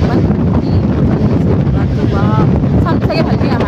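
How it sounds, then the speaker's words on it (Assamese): Steady wind buffets the microphone on the seashore at Puri, a constant rushing roar that runs the whole time, with voices faintly audible underneath. "ইমান ধুনীয়া বতাহ ৱাও মানে গোটেই মানুহটো লৰাই দিছে"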